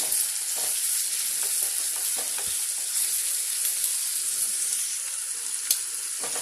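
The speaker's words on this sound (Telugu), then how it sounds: "టమాటా ముక్కలు బాగా వేగాయి కదండి." Finely chopped tomatoes frying in oil for a dried fish curry, a close, steady sizzle with occasional stirring clicks and scrapes, no speech.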